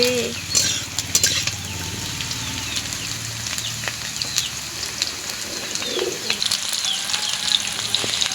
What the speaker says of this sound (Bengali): পেঁয়াজটাও লাল লাল করে ভেজে নেব